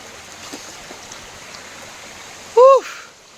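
Fresh water trickling out of rocks at a waterfall, a faint, steady flow heard close by, broken near the end by a brief high whistle-like chirp.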